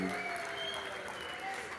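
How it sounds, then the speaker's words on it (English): An arena crowd at a professional darts match, the Winmau World Masters 2022, applauds after a maximum 180 is thrown, a steady, fairly soft wash of clapping with a voice talking over it. "And a round of applause again from Wendy."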